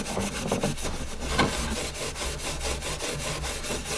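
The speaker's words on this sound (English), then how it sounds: "grab your piece of wire wool and we'll clean this up" Wire wool scrubbing a freshly soldered copper pipe repair to clear off excess flux, with fast, even back-and-forth rasping strokes, close and continuous, with no voices.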